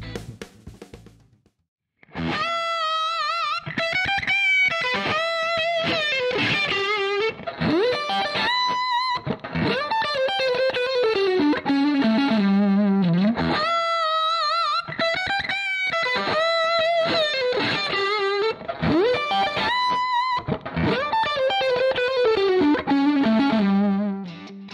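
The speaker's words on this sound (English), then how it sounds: "please listen to the guitar sound using mixed IR, where two microphones are combined into one IR data" Distorted electric guitar heard through a TacoSounds 212 cabinet impulse response blending two microphones, playing loud riffs and sustained chords for over twenty seconds after a brief quiet start, thick and saturated with no voices.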